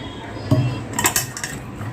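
Metal kitchen utensils clink and clatter sharply a few times as hot milk is poured through a strainer, close and fairly loud over a low background hum.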